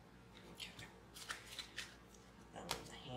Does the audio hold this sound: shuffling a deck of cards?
yes